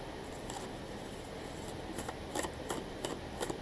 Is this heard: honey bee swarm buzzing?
no